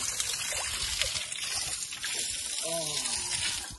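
Water pours steadily from a spout at the Siddhakali temple in Bhojpur, a constant rushing splash that fills the scene, with a faint voice briefly audible underneath.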